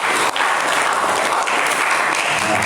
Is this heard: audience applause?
yes